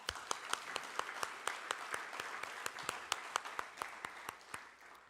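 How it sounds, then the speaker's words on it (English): Audience applause at a youth day event, with steady group clapping and sharp, regular hand claps standing out over the wash of the crowd, moderately loud and fairly close. "Everyone, let's clap."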